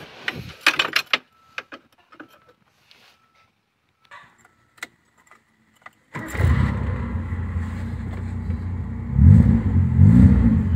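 A classic car starts after several seconds of clicks and key rattles: the engine fires abruptly, then settles into a steady, close idle with a couple of brief throttle blips.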